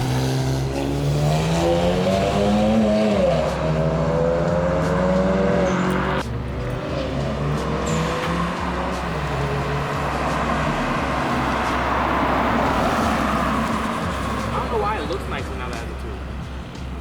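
A tuned BMW 335i accelerates with a loud, steady engine drone and rising, sweeping revs throughout, while people talk excitedly over the car noise.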